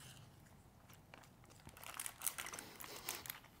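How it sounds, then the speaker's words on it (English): Food wrapping being crinkled and handled close up, with sparse soft rustles at first, then a busier burst of sharp crackles toward the end, quiet overall. "I feel like this crinkling is probably kind of loud."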